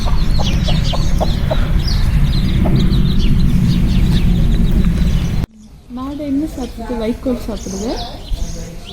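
Chickens clucking and chirping nearby at a Netherlands farm over a loud rumbling background, then quieter clucks continue as a person talks.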